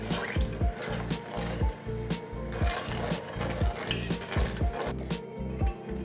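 Sugar and water are stirred together in a pot on the stove for syrup, with a rapid, regular scraping of a spoon against the pot bottom, close and continuous for several seconds.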